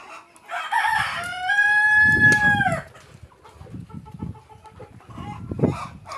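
Rooster on a poultry farm keeping Fayoumi chickens lets out one loud, drawn-out crow early on, followed by scattered quieter clucks and low farmyard rustling for the rest of the stretch.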